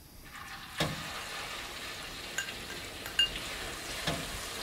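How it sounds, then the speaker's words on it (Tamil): A ground mixture frying in hot oil in an iron kadai, giving a soft, continuous sizzle punctuated by four separate metallic clinks of a utensil against the pan. "நம்ம அரைச்சி வச்சு இந்த கலவையை இப்போ எண்ணெய்க்குள்ளே போடலாம்."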